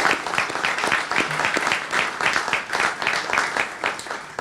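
An audience at a hospital launch event applauds, giving a dense, continuous round of clapping from many hands that holds steady throughout.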